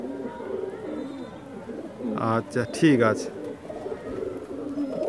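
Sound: pigeons cooing in a loft

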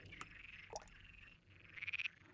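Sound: frog croaking

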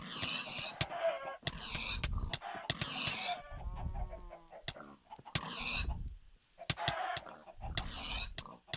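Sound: chicken clucking in Minecraft video game

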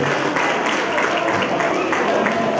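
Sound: audience applause for performers

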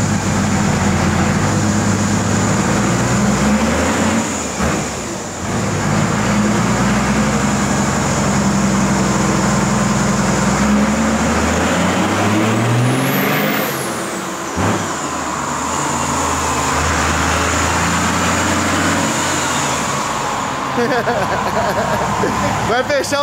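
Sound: pickup truck engine revving in a smoke show

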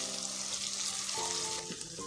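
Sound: frying ginger garlic paste until golden

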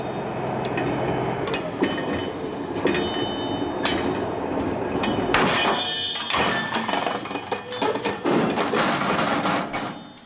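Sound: rail control car buffer collision test at up to 10 km/h

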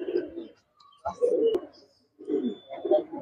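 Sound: male red racing pigeon cooing

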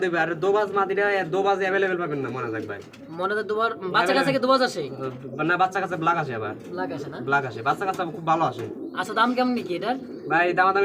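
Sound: pigeons cooing

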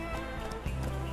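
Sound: horse galloping

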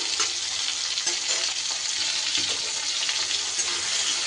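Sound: chopped tomato being stirred and fried in a pan

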